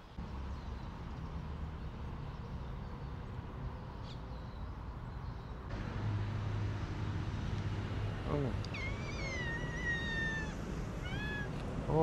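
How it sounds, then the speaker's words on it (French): Several small cats meow near a street in Penang, giving thin rising and falling cries in the later part. A steady traffic hum runs underneath. "Oh, beaucoup de petits chats."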